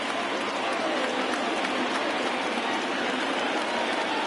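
A baseball stadium crowd in a PS4 game roars and cheers for a 3-2 count, a dense continuous wash of noise that stays loud and even from start to finish.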